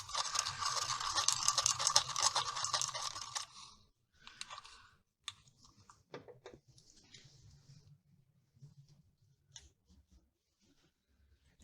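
A stainless steel letter opener stirs mica or enamel powder in a container, making a loud, dense scraping rattle for about three seconds, followed by sparse, quieter clinks and scrapes.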